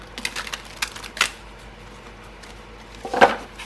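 Tarot cards from a Seed and Sickle deck are shuffled and drawn, giving a few scattered crisp taps and flicks with one sharper snap near the end. The sounds are close and quiet, with no talking.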